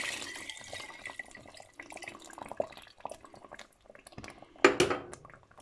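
Meat stock is poured into a pot of jollof rice cooked with mackerel and tomato, a quiet running, splashing liquid sound with a louder splash near the end, no talking.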